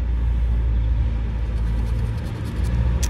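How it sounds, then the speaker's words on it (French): Cars pass steadily along a road beside small roadside terraces, a continuous low rumble of traffic with occasional faint brake hiss, no speech. "C'est pour ça qu'on entend bien passer les voitures."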